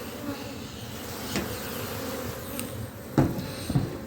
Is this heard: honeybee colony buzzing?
yes